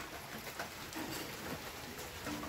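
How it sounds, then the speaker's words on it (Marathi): Steady morning rain pours down on a farm, a dense even hiss of drops striking surfaces that continues without a break, with no voices. "असा पाऊस चालू झाला."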